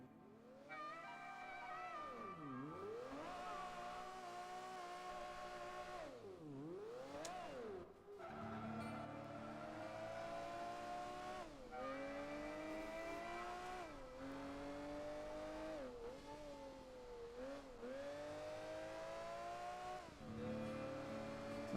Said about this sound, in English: This Lamborghini is apparently the loudest thing on Earth.